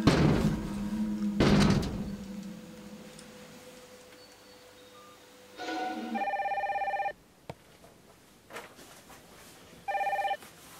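A telephone ringing while a call to the police goes through, two clear electronic rings separated by a pause, preceded by door bangs and shuffling, fairly close with no talk.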